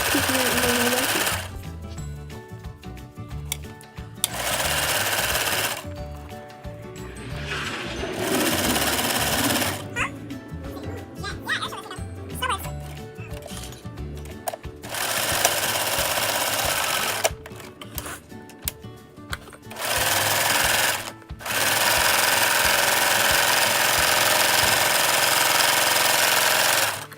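A sewing machine stitches pleated grosgrain ribbon in several loud, rapid bursts separated by pauses, close up, with a person talking during the breaks.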